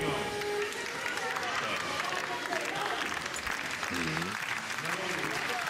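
A crowd at the 2016 European Weightlifting Championships, women's 63 kg, applauds steadily in the arena while a commentator's voice talks over the clapping.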